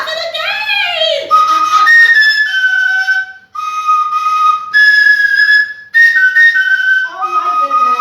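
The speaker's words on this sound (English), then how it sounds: "every time I hear the Oja flute, I get excited" A bright, breathy Oja flute plays a flowing melody of sustained notes and quick runs, loud and close, with brief pauses between phrases.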